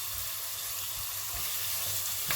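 Chopped chilies hitting hot oil with softened onions in a pan for a spicy marinara, giving a steady close sizzle throughout and a brief sharper crackle near the end.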